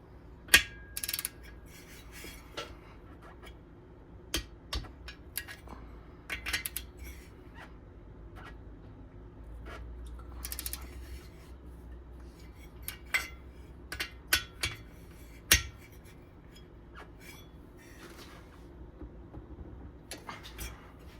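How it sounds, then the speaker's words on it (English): Torquing the head bolts on a Kawasaki KE175 engine with a wrench: a series of sharp metallic clicks and clanks spaced irregularly over a quiet background, near and fairly faint. "Now we can torque the head bolts."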